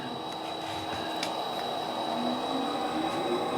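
A freight train rumbles steadily with a constant low roar and a faint high whine, with occasional light clanks and no voices.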